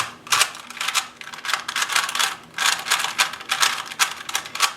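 A Rubik's brand 3x3 cube with an unlubed core is turned rapidly, giving a close, crisp run of plastic clacks and rattling clicks in quick irregular bursts with no talking.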